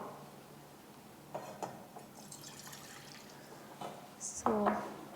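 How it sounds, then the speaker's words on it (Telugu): Half a glass of water is poured into a vessel for a herbal decoction, a short splashing pour near the end after quiet kitchen sounds and faint drips. "సో దీంట్లో నేను 1/2 గ్లాస్ వాటర్ వేస్తున్నాను"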